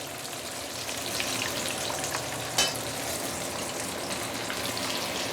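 Continuous bubbling sizzle of a large whole siakap fish deep frying in hot oil, steady and close, with one brief sharp crackle midway.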